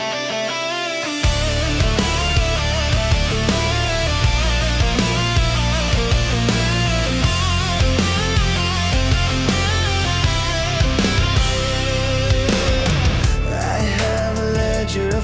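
A song inspired by a story of obsessive devotion: full band music with steady drums, bass and bright layered instruments, loud and continuous after a brief quiet start, with no talking over it.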